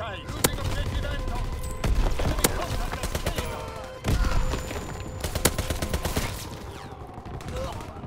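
Flak guns in Call of Duty: WWII firing at an enemy bomber, with sharp, spaced cannon reports and heavier thuds over continuous gunfire and battlefield clatter, loud and persistent.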